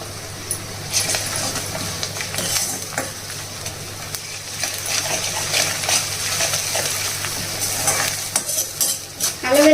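Ginger garlic paste frying with mixed vegetables, turmeric and salt in a pan, a continuous close sizzle with frequent stirring scrapes and clinks that grow busier toward the end.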